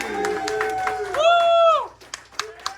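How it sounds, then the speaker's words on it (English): Scattered hand claps from a comedy bar audience welcoming comedian Jack Reeves to the stage, broken by a loud whooping cheer, then a few sharp separate claps as it dies down. "Start clapping now for Jack Reeves!"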